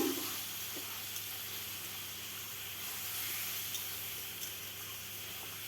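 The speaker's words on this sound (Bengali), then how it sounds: "মশলাটা কষানোর জন্য সামান্য একটু জল দিয়ে দিলাম" Water poured into a frying spice paste for a Bengali shola kochu curry with fish roe gives a steady, broadband hiss that holds level and unbroken from start to finish, with no voices over it.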